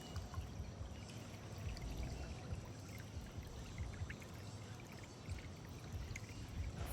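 Creek water flows and trickles continuously around someone sitting in the stream, a soft steady babble with no voices.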